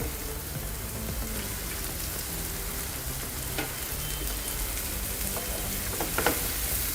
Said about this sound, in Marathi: गॅस मोठा ठेवूनच परतायच्या आहेत, म्हणजे टॉस करायच्या आहेत ऍक्च्युली.